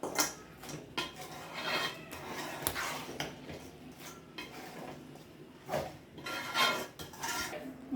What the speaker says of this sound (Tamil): இது நல்லா கிண்டி விட்டுக்கணும்.